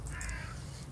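Crows caw harshly and repeatedly in the horror adventure game The Last Door, a close, loud cluster of calls over a steady low background drone.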